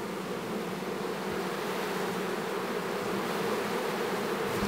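A dense, steady drone of many honeybees buzzing around a hive during queen introduction, continuous and fairly loud throughout with no voices.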